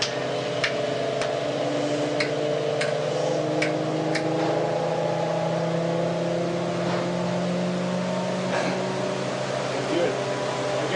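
A homemade free energy generator motor system hums steadily and rises in pitch as it accelerates, with a faint rhythmic ticking layered over the continuous whine.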